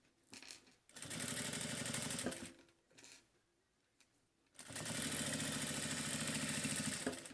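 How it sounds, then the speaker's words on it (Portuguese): Small fabric pieces for a multipurpose organizer are sewn on a sewing machine in two steady, close runs, with a short burst and quiet pauses for adjusting the fabric between them. "costura, ajeita outro pedaço e costura"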